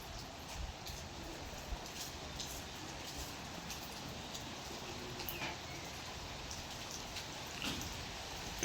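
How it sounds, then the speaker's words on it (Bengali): Rain begins to fall outdoors, a faint, steady patter of scattered drops ticking on surfaces at a distance, with no talking. "বৃষ্টি নামতেছে"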